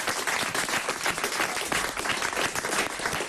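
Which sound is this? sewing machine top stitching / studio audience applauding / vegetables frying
studio audience applauding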